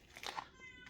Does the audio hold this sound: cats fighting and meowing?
yes